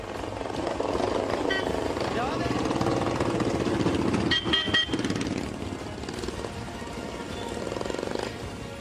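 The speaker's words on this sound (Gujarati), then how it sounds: "ઘોંઘાટ કરતા સાયલેન્સર બાઇકમાં લગાવીને રસ્તા પર સ્ટાઇલ મારવામાં આવી" Bullet motorcycles fitted with modified, noisy silencers roar loudly and continuously on a street in Surat, a rough engine drone beneath a voice talking over it.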